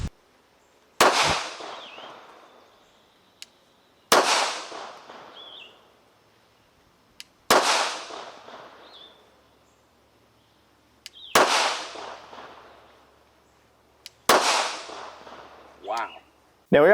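A handgun fitted with an enclosed-emitter red dot sight fires five loud, evenly spaced shots outdoors, each a sharp crack trailing into a long echo, with small clicks and faint sounds between shots.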